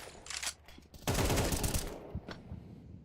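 AK rifle fire in a competitive shooter video game match, rapid bursts of gunshots with a sustained, loud volley in the middle followed by a few scattered shots.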